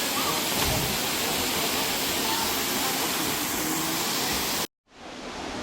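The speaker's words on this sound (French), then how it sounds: "La cascade de Bis, ça vaut le coup." Cascade de Bis waterfall roars with a dense, steady broadband rush, close and loud, breaking off briefly near the end before resuming more faintly.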